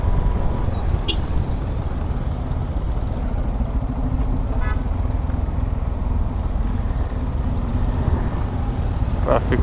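Steady road traffic noise heard from a motorcycle on a highway near a state border, a continuous low rumble of engines and wind with a few faint horn-like tones, fairly loud and constant throughout.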